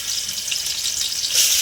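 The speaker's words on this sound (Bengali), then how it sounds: "তেল গরম হয়ে গেছে চিংড়ি মাছগুলো ভেজে নিলাম" Shrimp seasoned with salt and turmeric fry in hot oil with a steady, close sizzling hiss that swells slightly near the end, no voices present.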